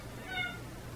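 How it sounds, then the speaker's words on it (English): A single short, faint cat meow rises briefly above a quiet room hum, heard alone without talk. "Yes, that was a meow."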